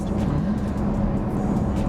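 A Volkswagen Golf VII Variant 1.6 TDI 105 hp diesel engine hums steadily from inside the cabin, a smooth low drone that gradually builds as it accelerates without any sharp revving.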